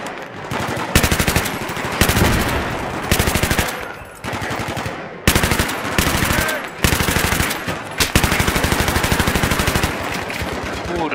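Heavy automatic gunfire from the video game Battlefield 3 rattles in loud, rapid bursts, broken by short pauses, with sustained volleys filling most of the stretch.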